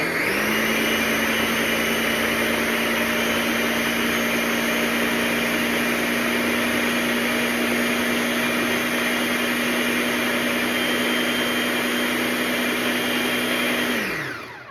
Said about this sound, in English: we're just gonna blend it until it's smooth